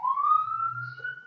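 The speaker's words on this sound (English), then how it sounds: "I hope that siren was on your end." Police siren in a steady rising wail, heard alone and moderately loud with a faint low hum beneath it.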